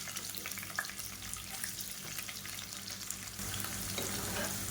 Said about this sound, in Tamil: நல்லா ஒரு கைப்பிடி அளவுக்கு பெரிய வெங்காயம் பொடியாக நறுக்கினதை சேர்த்துக்கலாம்.